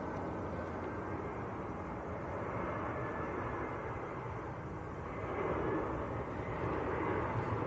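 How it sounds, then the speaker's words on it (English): An EasyJet airliner on short final approach to Manchester Airport gives a faint, distant, steady jet rumble that swells slightly toward the end; no speech. "EasyJet on short finals."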